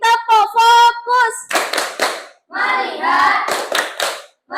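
A school class performs a rhythmic focus clap, with bursts of hand claps alternating with children chanting and singing in unison, close and loud in short patterned phrases.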